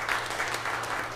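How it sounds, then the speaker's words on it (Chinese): A congregation at a Taiwanese-language Sunday church service claps together to welcome a newcomer, a dense, steady burst of applause filling the short moment. "我们一起拍手欢迎他哈"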